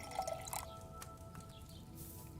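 Liquid drips and trickles faintly while schnapps is distilled in Kingdom Come Deliverance 2, a soft steady watery sound under low background game ambience.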